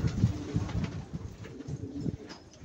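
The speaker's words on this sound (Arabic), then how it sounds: "مش كل الحمام جعان" Pigeons coo in low, repeated throaty murmurs, with several birds calling at once close by and no talk over them.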